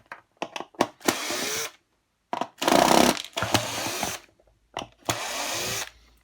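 A cordless screwdriver backs screws out of a Henry vacuum cleaner during disassembly, producing several short, close whirring bursts of varying length with gaps between them.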